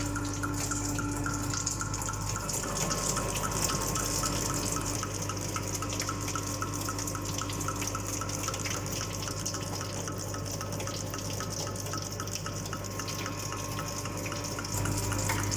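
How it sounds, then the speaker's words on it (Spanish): Water runs by gravity from one storage tank into a higher tank as part of a renewable-energy demonstration. It makes a constant, close trickling and gushing flow with faint dripping, steady throughout. "agua del depósito A al depósito C, que está bastante más alto, y así, pues simplemente con la gravedad somos capaces de llevar agua a un punto más alto"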